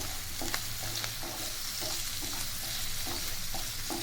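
Capsicum and green chillies frying with soya chunks in a pan, a dense continuous sizzle with regular scraping stirs every half second or so, close and steady, no voices.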